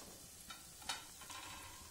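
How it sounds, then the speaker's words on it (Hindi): Dry roasted masala spices and degi mirch fry in a pan for baigan kalonji, with a faint sizzle and a few soft stirring scrapes, quiet and brief with no voices. "एक मिनट और भूनूंगी तो सूखा ड्राई मसाला जो भूना हुआ है मसाला एकदम अच्छी तरह से भून गया है"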